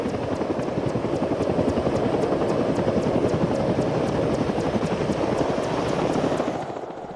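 A helicopter's steady rotor thump beats rapidly and loudly throughout, then eases off slightly at the end, in the video game Arma 3.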